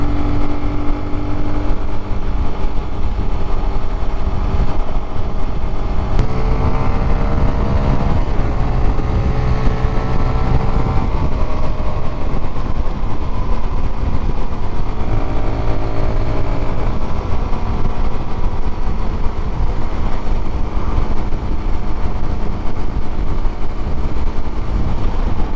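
A Keeway RKF 125 motorcycle cruising uphill in sixth gear, its steady engine drone loud and continuous throughout with shifting harmonic tones as the revs change slightly.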